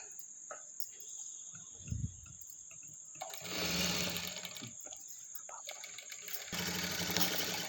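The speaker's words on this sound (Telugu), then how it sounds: "నేను 3 సైడ్స్ ఇలానే స్టిచ్ చేస్తున్నాను" Domestic sewing machine stitching three sides of a blouse front panel, a steady mechanical whir running in bursts with a steady high whine throughout, quiet and close, with brief pauses between runs.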